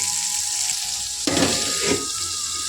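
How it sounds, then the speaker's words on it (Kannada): An egg fries with masala in a pan under a lid, giving a loud, steady sizzle with a brief rattling burst midway as the lid or pan is handled, close by, with no talking. "ಮೊಟ್ಟೆ ಚೆನ್ನಾಗಿ ಬೇಗ ಫ್ರೈ ಆಗುತ್ತೆ"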